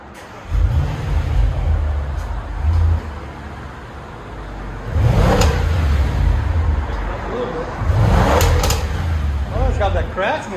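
An Audi S8 4.0L V8 with a resonator-deleted exhaust, heard outdoors as three deep revs that swell and fall back to a rumbling idle, fairly close.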